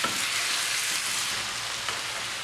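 Tomatoes drop into a hot pan for a potato curry, setting off a steady, close, hissing sizzle of frying that continues evenly throughout.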